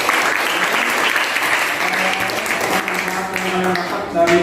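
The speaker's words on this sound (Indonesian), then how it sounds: "Tepuk tangan untuk Alina ya." A classroom of students gives a student a round of applause, a dense, steady wash of clapping close by that carries on throughout, with some voices mixed in.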